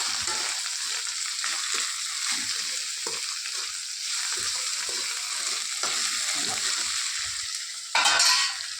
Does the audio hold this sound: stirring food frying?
yes